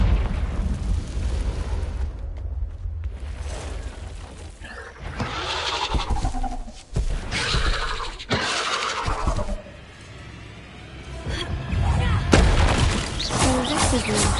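Confringo blasting spells fire inside an Acromantula cave in Hogwarts Legacy, a run of loud booming impacts and rumbling bursts with a heavy blast near the end and brief spoken lines between them.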